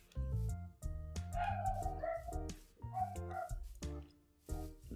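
Several dogs bark and yip in a back-and-forth run of loud, close barks with whiny, higher-pitched yelps mixed in, no talking over them.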